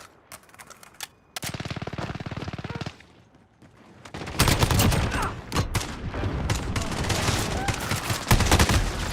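Gunfire in a video game, with a rapid automatic burst of evenly spaced shots, then a pause and a louder, denser stretch of shooting and impacts, with no talk over it.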